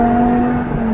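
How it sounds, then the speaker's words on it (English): BMW M6 engine during a gear change, a loud, steady mechanical drone with sustained tonal hum, heard close and alone for about a second. "Look, I'm going to change a gear."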